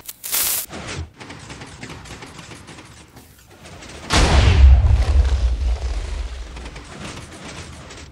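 TNT cannon with a 6 piston extender in a video game, mechanical clicks and piston movement followed by a loud booming blast that rumbles and fades, then lingering mechanical rattling.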